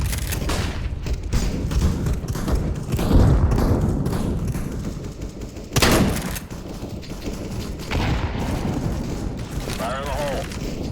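Flashbang grenades and gunfire in the video game CS:GO, with repeated booming blasts and bursts of shots in a dense, loud battle, and voice callouts mixed in.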